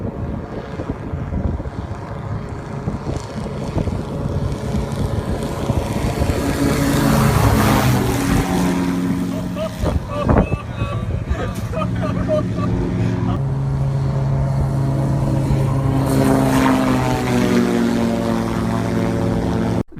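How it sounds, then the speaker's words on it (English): The Airfish 8 ground-effect plane skims just above the water, its engine and propeller droning steadily and loudly under heavy wind noise for about twenty seconds. "This is the Airfish 8, and it's a plane that's designed to fly right above the water."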